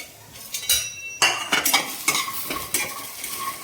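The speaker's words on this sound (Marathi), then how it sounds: "आता आपण लसूण, मिरची हे सुद्धा थोडंसं परतवून घेऊया।" Garlic and green chili sauté in a pan for mint chutney, sizzling softly beneath sharp utensil clinks and scraping stirs against the metal, in short bursts.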